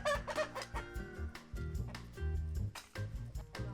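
Hens cluck steadily and busily nearby, several birds overlapping in choppy bursts without pause.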